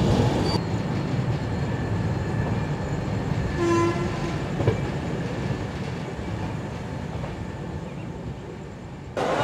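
A Puri Duronto Express (22201) runs at speed past Khurda Road Junction, heard from its first-class coach: a steady, loud rolling rumble with a brief tonal horn-like note partway through.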